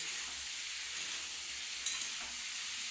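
Soybean chunks and potatoes frying in mustard oil give off a steady, soft sizzle. A couple of faint clicks from a utensil can be heard near the end.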